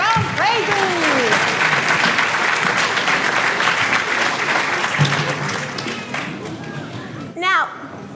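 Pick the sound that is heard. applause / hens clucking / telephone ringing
applause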